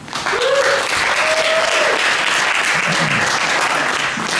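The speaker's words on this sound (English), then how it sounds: "let's give it a round of applause" A live audience applauds a veteran musician who has been playing since the 1960s and 70s: loud, dense, sustained clapping that runs steadily throughout, with a couple of brief whistles near the start.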